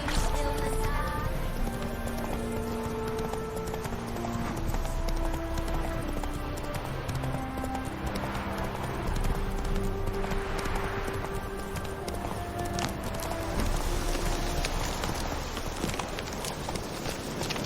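Roach the horse galloping in The Witcher 3, a steady rhythmic clip-clop of hooves running on, heard over game music with a voice speaking at times.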